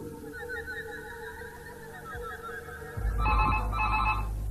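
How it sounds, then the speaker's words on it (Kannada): A telephone rings indoors in two short, loud bursts near the end, after a stretch of quieter room sound with a faint voice. "ಫೋನ್ ತೆಕ್ಕೊಂಡು ಬರ್ತೇನೆ"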